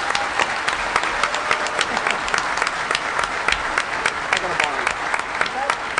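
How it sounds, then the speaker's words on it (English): Hacker conference audience applause at closing ceremonies in a large hall, loud sustained crowd clapping with a few scattered shouts mixed in. "I'm going to, ask everybody to clap because these guys busted their ass."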